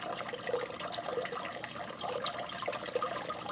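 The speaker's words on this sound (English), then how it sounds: "I love the sound of that running water." Water from a small waterfall near a turtle area runs and splashes steadily, a continuous bright gurgling wash at moderate level with no voices.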